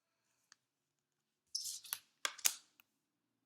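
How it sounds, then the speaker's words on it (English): Tarot cards are shuffled in a few short, crisp bursts of riffling and flicking close by, with brief clicks between them and quiet pauses. "I'll keep shuffling."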